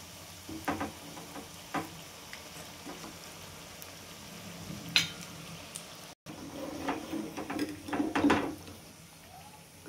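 Leftover chapati pieces frying in a pan over medium gas, a faint low sizzle with intermittent scraping and stirring clatters of a spatula, close and quiet.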